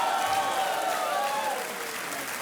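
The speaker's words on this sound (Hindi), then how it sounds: "तालियां बजती रहनी चाहिए जोर से।" A game-show studio audience keeps applauding under swelling show music, a broad wash of clapping beneath sustained tonal notes that fades a little toward the end.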